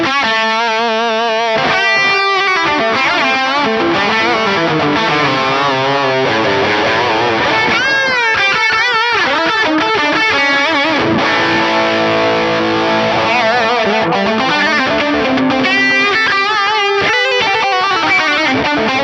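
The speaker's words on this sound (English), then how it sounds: "I'll turn the delay, the modulation, and the reverb off just so we can hear the boost from the Tube Screamer." Electric guitar driven through a Tube Screamer overdrive boost on a NuX MG-30 with delay, modulation and reverb off, playing loud distorted chords and sustained riffs continuously with no talk.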